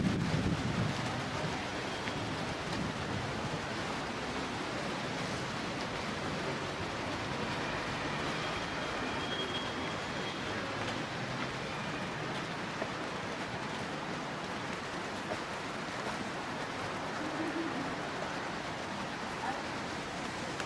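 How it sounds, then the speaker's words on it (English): Heavy rain pouring steadily outdoors, a dense continuous hiss that stays even and loud throughout with no pauses. "it's raining like hell right now"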